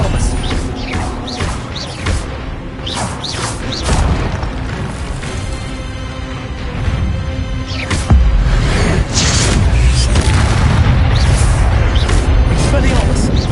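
Repeated Expelliarmus spell blasts in the Hogwarts Legacy video game, a run of loud booming bursts and pops in quick succession, with busy game effects running throughout.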